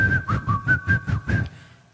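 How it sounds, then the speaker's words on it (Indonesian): A person whistles a short, steady melody of about six rising and falling notes in a tuneful rhythm, heard alone and close before it stops, during a talk on finding peace of heart through remembrance of God. "keren siulnya"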